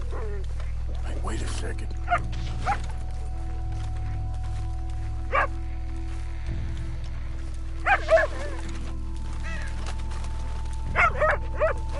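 A dog in Red Dead Redemption 2 lets out a few short, scattered barks and yips over a steady game background hum, with someone speaking between them.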